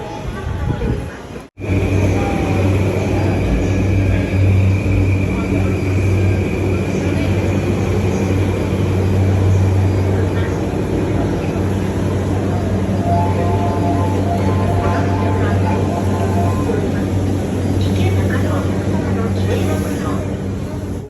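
A steady low rumble and hum of a moving train in Japan fills the space, continuous and loud, with faint murmuring voices in the background.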